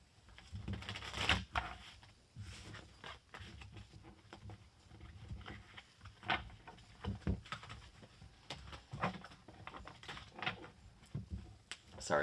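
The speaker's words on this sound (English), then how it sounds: "I will begin with a shuffle." Oversized tarot cards are shuffled by hand during a reading, giving soft irregular riffling and papery slaps in several bursts, quiet and close, with no talk over it.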